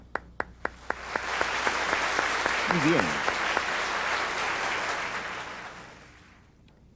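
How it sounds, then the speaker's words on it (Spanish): A Baptist church congregation applauds: a few separate early claps swell into full, sustained applause with a brief spoken remark in the middle, then the clapping fades away toward the end. "Denle un aplauso."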